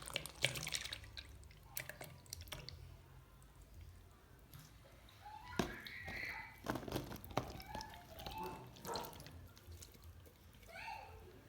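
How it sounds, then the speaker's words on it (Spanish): Water drains out of a can into a container while making a dessert, heard as faint, intermittent trickles and drips with light clinks, close by in a quiet room. "Voy a vaciar el agua de la lata esta aquí."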